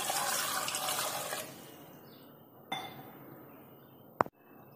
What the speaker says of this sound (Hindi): 1 गिलास पानी ऐड करूंगी।